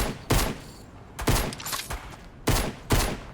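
Short bursts of Thompson machine gun fire in the video game Fortnite, four rapid clusters of loud shots separated by brief gaps.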